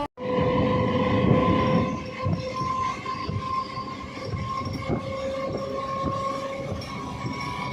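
A passenger train rolling between Bardhaman and Bandel Junction in West Bengal, heard from on board as a continuous loud rumble with rhythmic wheel clatter, a sustained tonal whine and occasional squeal.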